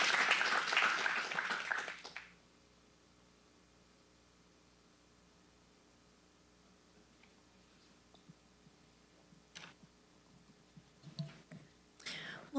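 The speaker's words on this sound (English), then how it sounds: "Give them a round of applause." A burst of room applause at a county Board of Supervisors meeting fills the first two seconds, then quickly dies away into near silence with a few faint scattered sounds later.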